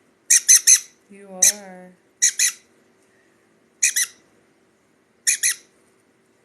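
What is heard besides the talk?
sun conure chick squawking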